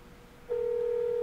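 After a number is dialed, a telephone line sounds a steady electronic tone that starts abruptly after a short quiet stretch and holds evenly, clear and close, with no one talking.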